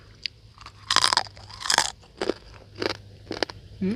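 Crispy fried squid crunched and chewed close to the mic, with several loud bursts of crunching in uneven bites and quieter chewing between them, set against a steady low hum in an outdoor spot.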